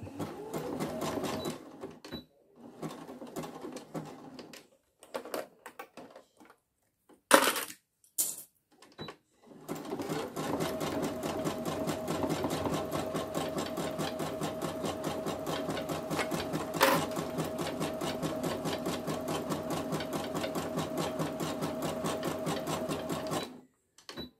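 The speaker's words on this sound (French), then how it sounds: "j'ai bien fait mon point zigzag de ce côté. Hein. Donc maintenant, je le fais de l'autre côté." A sewing machine runs zigzag stitches on a fabric wallet in close, rhythmic bursts. A few short starts and stops and some clicks give way to a long steady run of stitching.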